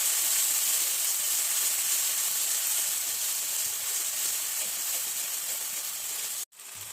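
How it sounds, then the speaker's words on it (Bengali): Cashew nuts stirred in a hot pan give a steady, loud hissing sizzle that runs almost unbroken, ending with a brief sharp cut. "কাজু বাদামটা দিয়ে ভালো করে নেড়ে ছেড়ে নিতে হবে"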